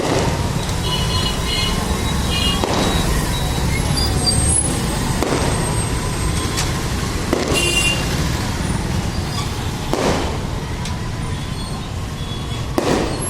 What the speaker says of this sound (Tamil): ஒன் செவன்ட்டி சி பஸ்ஸு போகுது